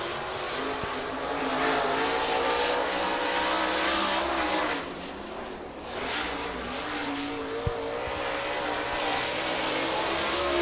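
A late model race car runs a qualifying lap, its engine roaring loudly and steadily with a dip as it passes before building again, and no speech.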